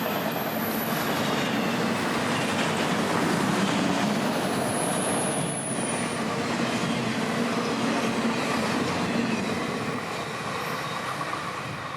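An autorack freight train passes on the S Line in Central Florida in fog, with a loud, continuous close rolling roar, rhythmic wheel clatter and high wheel squeal, and no talking.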